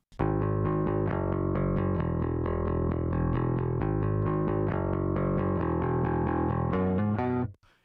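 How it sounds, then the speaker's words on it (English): A distorted bass guitar DI plays a steady run of plucked notes with a gritty, mid-heavy edge, ringing out to a final note before stopping. "It gives this mid character with just the right amount of distortion"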